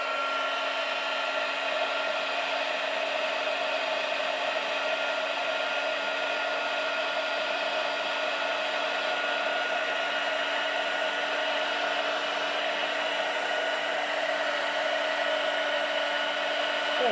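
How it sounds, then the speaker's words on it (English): A heat tool for embossing blows hot air over embossing powder on paper for a card, a steady loud whooshing drone that holds evenly for the whole stretch with no talk. "Here's our heat tool"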